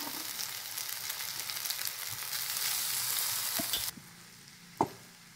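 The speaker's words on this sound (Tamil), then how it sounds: "அவுளை சேர்த்து நல்லா நம்ம வதக்கலாம்." Soaked flattened rice (aval) with softened onions sizzling and hissing steadily in a pan for green tamarind aval, broadband and close, dropping quieter near the end with a sharp utensil knock.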